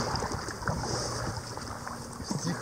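A boat moves along the Moskva river, with a steady wash of water and wind-blown broadband noise and a low engine hum underneath, continuous and fairly close.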